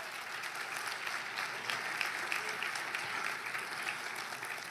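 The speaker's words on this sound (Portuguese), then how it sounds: "Deu para Jesus uma forte salva de palmas." A church congregation at a Baptist prayer meeting claps together in strong, sustained applause, a dense even patter that carries through the whole stretch without letting up.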